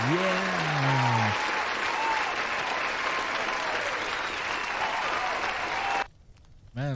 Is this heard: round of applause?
yes